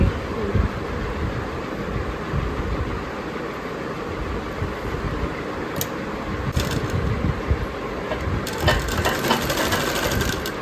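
Sewing machine stitching the cuff of a pleated frock, a steady close mechanical whirr with rapid needle chatter running continuously, a few sharper clicks near the end.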